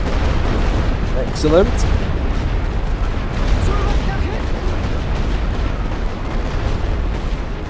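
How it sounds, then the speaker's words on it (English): Continuous rumbling barrage of artillery explosions in a Great War Western Front trench battle game, a dense low roar throughout with a brief whistling shell and a short spoken word over it. "These bombardments aren't doing us any favours."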